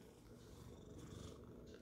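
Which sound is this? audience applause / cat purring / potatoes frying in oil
cat purring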